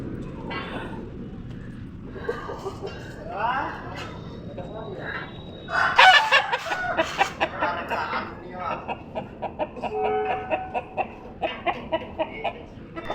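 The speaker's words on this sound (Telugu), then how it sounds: "ఈ కోడి కుక్కరొక్కో" Village chickens, including a rooster, cluck and call at close range, with a burst of loud crowing midway and repeated short clucks afterward, while a person talks over the birds.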